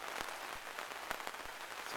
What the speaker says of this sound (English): It's sunny and it's raining.